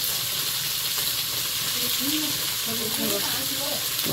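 Dried red chillies, five-spice seeds, tomato and salt sizzling in hot oil in a home kitchen, a steady broadband hiss throughout with faint voice-like murmurs over it.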